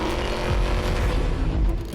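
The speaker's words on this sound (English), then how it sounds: "the Escalade-V's engine sounds like it comes from hell" During a drag race, a Cadillac Escalade-V and a Ford Raptor R give off a loud, steady engine roar that stays constant across the short moment.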